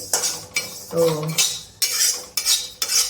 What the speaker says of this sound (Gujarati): એકદમ અવાજ આવે તળ તળ થાય એટલે આપણા સુવાદાણા તતરી ગયા